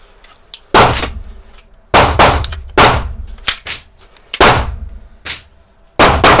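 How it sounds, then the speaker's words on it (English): Loud 9mm pistol shots from a CZ P10C firing polymer-coated Badger factory-reloaded rounds, each crack ringing off a steel target, about seven shots in uneven rapid succession with short decays between. "So today I'm shooting my CZ P10C"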